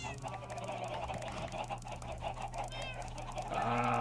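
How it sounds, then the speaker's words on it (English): Minecraft chickens cluck and squawk in repeated short bursts, fairly close, over a steady background hum from the game, with no talk during the calls. "I hate the noises of chickens, especially."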